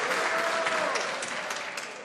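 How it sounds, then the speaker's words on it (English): Members of the Canadian House of Commons applaud during a sitting, a brief dense patter of many hands clapping at moderate distance in a large chamber. "I'll ask members once again to wait until the ministers finished answering before they applaud"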